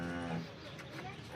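A local Banaskantha cow gives a single low, drawn-out moo, moderately close but fairly quiet, with faint background noise around it.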